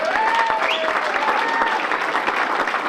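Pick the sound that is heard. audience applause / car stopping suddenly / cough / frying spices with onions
audience applause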